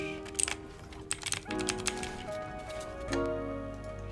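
Clicky typing on an AK33 mechanical keyboard fitted with blue switches, a close run of sharp uneven keystroke clicks with brief pauses, heard alone with no talking.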